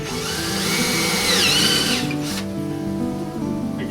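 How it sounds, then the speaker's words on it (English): A power drill with a 5/16 bit bores partway through a storm door, whining loudly and close with its pitch shifting as it bites, then dropping to a lower running drone. "I'm gonna drill halfway through on each side to make sure the holes all line up"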